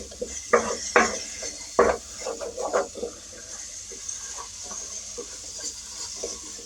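Masala and onions are stirred in tomato paste in a pot for prawn biryani, with a spoon scraping and knocking against the metal in irregular bursts over a faint background sizzle.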